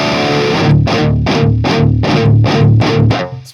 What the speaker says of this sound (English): this is based on Mr. Smith Distortion